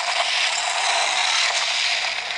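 A plastic Majungasaurus dinosaur toy figure gives a dry, continuous ratcheting click from its neck joint as the head turns side to side, close and alone with no talk.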